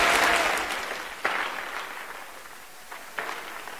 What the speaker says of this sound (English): somebody clap their hands and just thank them.